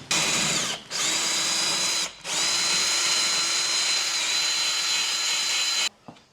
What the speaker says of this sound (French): On va percer des petits trous.